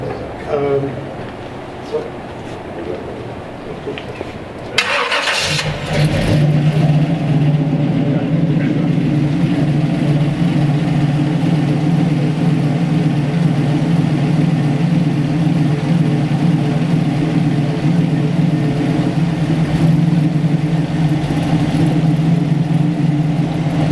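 A car engine fitted with electronic carburetor injection, a clunk followed by the engine catching and settling into a steady, even idle hum, with someone speaking over it.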